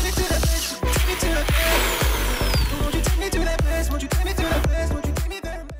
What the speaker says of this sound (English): now we're going to drill a hole into the drill right here